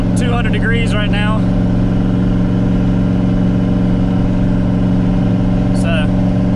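A turbo LSX engine in an RX7 with a Powerglide transmission runs warm, giving a loud, steady, droning hum, while someone talks over it at the start and again near the end.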